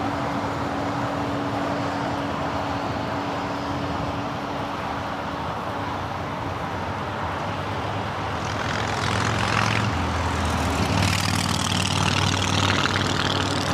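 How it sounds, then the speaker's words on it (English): A 10-year-old Aeromexico Boeing 737-800 arriving at Los Angeles International Airport: steady broadband jet roar that swells slightly toward the end as the plane passes nearer. "Air Mexico flight coming in from Mexico City, flight 642. It's a 10-year-old 737-800."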